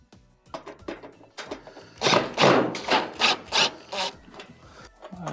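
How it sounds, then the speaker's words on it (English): Someone turns a screw into the back panel of a Maytag stove, producing a series of scraping, grinding twists with a few light clicks and taps. The sound is close and gets louder through the middle. "Put 1 screw in and tighten it."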